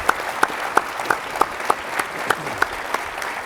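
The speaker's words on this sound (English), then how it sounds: "let's give these mayors a round of applause" An audience at a mayors' leadership event claps in a steady, evenly spaced rhythm, a short close burst of applause with no voices over it.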